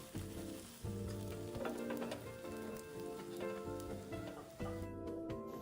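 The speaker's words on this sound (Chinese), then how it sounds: "全程保持文火，煎至两面微焦即可离火。" Egg with preserved radish frying in a pan over low heat, a close, steady sizzle with crackling spatters that swell in bursts and briefly fade near the end, with no talk.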